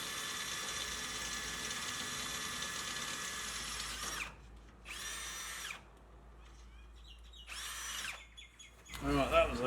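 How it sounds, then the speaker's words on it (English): An electric drill bores out a hole in metal for mounting a recovery point on a Mitsubishi Triton, stepping up from an 8mm bit to a 13mm bit. A steady loud whine runs for about four seconds, followed by several short bursts with pauses between. "I decided to go back to an 8mm before jumping back to the 13mm"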